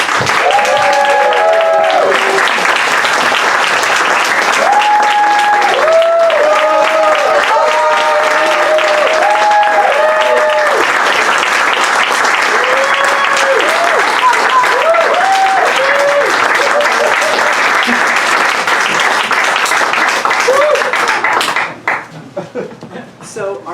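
Audience applause welcomes two authors to the stage at a book event, a loud, sustained burst of clapping from a sizable crowd that fades out near the end.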